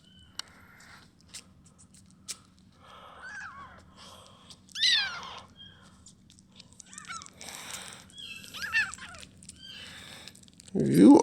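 A small hungry kitten meows repeatedly in short, rising cries, close and clear, with a louder cry at the end, while someone talks softly between the meows.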